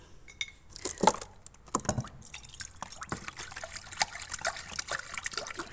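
Water trickles and drips into a plant saucer on a balcony, a thin uneven pour with small splashes and a faint clink of pottery, close and fairly quiet with no talk.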